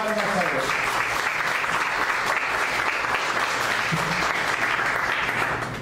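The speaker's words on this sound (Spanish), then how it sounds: "Dale una ofrenda de palmas a Dios." Congregation applauding during a church sermon, loud continuous clapping from many hands filling the room, with a faint voice under it at the start.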